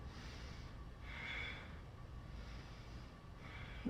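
Slow, audible breaths drawn in and let out during a dynamic yoga flow, soft and close, with no voice present.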